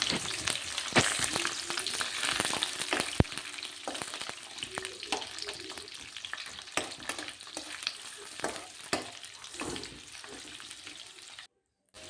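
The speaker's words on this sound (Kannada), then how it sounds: "ಅದಕ್ಕೆ ಈರುಳ್ಳಿ ಹಾಕಿ ಶುಂಠಿ ಬೆಳ್ಳುಳ್ಳಿ, ಕರಿಬೇವು ಸೊಪ್ಪು ಎಲ್ಲ ಹಾಕಿ ಚೆನ್ನಾಗಿ ಫ್ರೈ ಮಾಡ್ಕೊಳ್ಳಿ." Onion, ginger, garlic and curry leaves fry in hot oil for a village-style sambroli gravy, a continuous close crackling sizzle with frequent utensil scrapes and clicks, no voices, ending in a brief silence.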